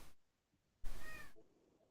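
A house cat gives a single short, fairly loud meow in an otherwise quiet room, the cry lasting about half a second before fading out.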